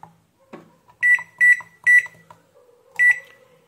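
Microwave oven membrane keypad beeps four times as keys are pressed: short, loud, evenly spaced tones, with soft clicks of button presses between them and no voices.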